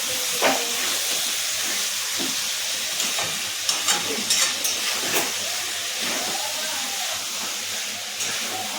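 Chicken frying in a pan with chicken curry spice, stirred now and then: a loud, close sizzle and hiss with scraping and clinking spoon strokes over it, and no voices.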